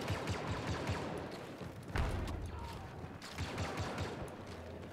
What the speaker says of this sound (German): Wohin schießt denn der Kerl?